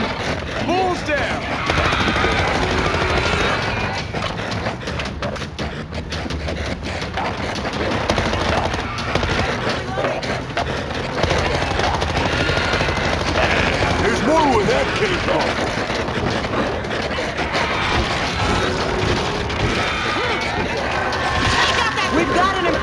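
Chaotic gunfire from the World War Z video game in a New York level, constant overlapping shots and bursts mixed with crowd-like noise and shouting voices throughout, loud and dense.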